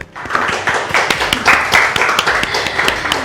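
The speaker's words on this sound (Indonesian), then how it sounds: "tepuk tangan dulu dong untuk Smart Mama" A small studio audience on a cooking show claps together, loud close-up hand claps in a quick uneven rhythm that carry on steadily throughout.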